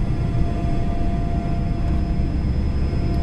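Learjet 45 jet engines roar during the takeoff roll at Montreal Mirabel, heard from inside as a loud, steady, low-heavy rumble with a constant whine and no audible talking.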